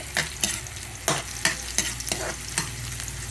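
Garlic, onion and ginger sizzle in hot oil while a utensil stirs and scrapes the pan in repeated strokes, the frying hiss steady beneath the rhythmic clatter.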